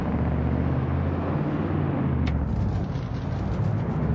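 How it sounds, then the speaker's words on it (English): A red Ford truck drives along, its engine and road noise forming a loud, constant low rumble with a brief high click partway through. "Let's just drive our truck around."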